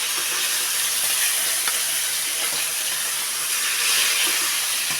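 Eggplant frying in hot oil gives a loud, steady sizzling hiss that spreads across the whole stretch without a break, alone with no voices over it.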